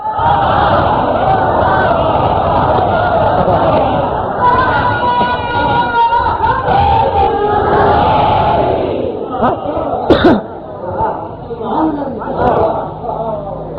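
Crowd at a Shia majlis chanting a religious slogan in loud unison, a dense roar of many voices that breaks into scattered shouts toward the end.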